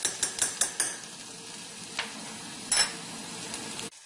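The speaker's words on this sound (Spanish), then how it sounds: "calentar una cucharada de aceite de oliva. Agregamos el diente de ajo." A garlic clove fries in a spoonful of olive oil over low heat for patatas bravas, a soft steady sizzle with a few quick utensil scrapes and taps near the start.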